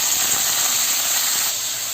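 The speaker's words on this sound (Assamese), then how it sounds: "চিকেনখিনি অকণমান ভাজি লৈছোঁ" Chicken pieces fry in a spoonful of oil in a wok, giving a bright, steady sizzling hiss that runs continuously and eases slightly near the end, with no voices over it.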